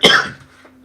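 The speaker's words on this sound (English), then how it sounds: "I cough when I talk a lot." One sharp cough bursts out close to the microphone, then trails off into near silence.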